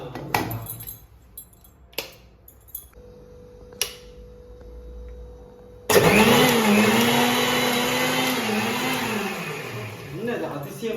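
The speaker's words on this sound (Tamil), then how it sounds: "என்ன அதிசயமான மிக்சி, அடிக்கிற ஜூஸ் எல்லாம் வெளியே வருது." A mixer grinder (mixie) making juice roars into a loud, sustained whir that holds to the end with a slight pitch wobble, preceded by a few sharp clicks and taps in near silence.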